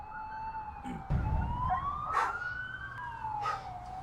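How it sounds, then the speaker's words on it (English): An emergency vehicle siren wails in a rising and falling sweep, moderately loud and continuous, with some rumbling traffic noise underneath. "What the fuck is going on with that siren?"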